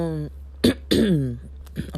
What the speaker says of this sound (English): I'm still gonna be clearing my throat, coughing and stuff.